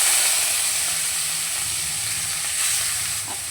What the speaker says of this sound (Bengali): এবার আমি চিংড়ি মাছগুলোকে ভেজে নেব।